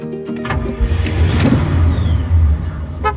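A car engine rumbles steadily up close, with a brief start-up sound at the beginning and a sustained low drone as the vehicle drives, with no talk.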